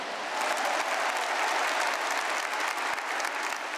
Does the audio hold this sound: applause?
yes